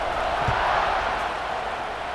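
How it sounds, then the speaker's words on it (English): Stadium crowd in the College Football 26 video game buzzing after a touchdown, a steady, dense roar of many voices that holds at an even level throughout, with no clear speech on top. "this crowd is buzzing after that last score"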